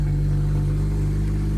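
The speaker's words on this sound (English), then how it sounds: "So far everything's quiet in here other than the engine exhaust note." Steady exhaust note from a BMW 335i with the N54 engine and a power delivery problem, a loud constant low drone held close by before it abruptly stops.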